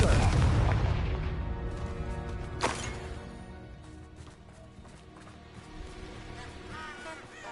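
Spell explosion from Confringo in Hogwarts Legacy, a loud booming blast at the start that rumbles and fades, followed by a sharp crack and scattered smaller impacts amid ongoing game combat sounds.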